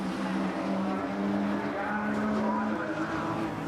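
A Porsche GT3 Cup race car crossing the finish line at Taupo Motorsport Park, a loud, sustained engine roar holding steady across the whole stretch.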